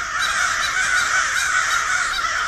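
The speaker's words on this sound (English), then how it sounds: "I'm surrounded by crows." Several crows caw loudly from a tree nearby, their harsh calls overlapping in a steady, continuous clamor with no voices.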